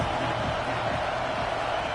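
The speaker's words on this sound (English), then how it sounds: "This crowd trying to make life miserable for this offense." Stadium crowd in the NCAA 26 college football video game roars as a dense, steady wash of noise for a couple of seconds, loud and unbroken.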